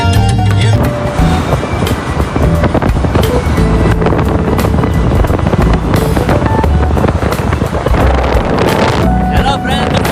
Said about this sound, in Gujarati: બહુ ફૂલ વાયરો આવી રહ્યો છે